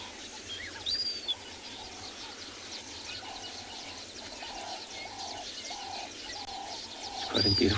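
Birds sing around a safari watering hole at sunrise. Soft dove-like coos and scattered chirps sit over a quiet, distant background, and one chirp stands out sharper near the end.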